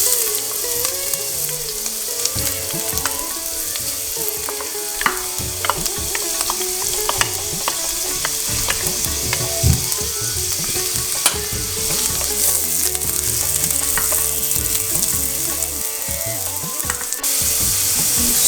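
Chopped onion fries in very hot oil in a pan, a loud, dense sizzle and crackle throughout, with stirring scrapes and clatter, no voices.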